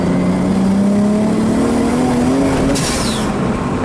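Turbocharged 1JZ engine in an S14 drift chassis, running rich, accelerating hard in third gear: a loud, close engine drone that climbs steadily in pitch under full boost, with no talking.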